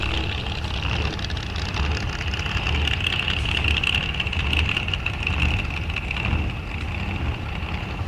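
A drag racing car idles at a raceway fall drag event, a steady low rumbling engine tone with a constant higher whine running throughout, fairly close and continuous with some wind noise.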